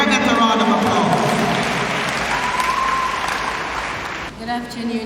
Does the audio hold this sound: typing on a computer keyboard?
no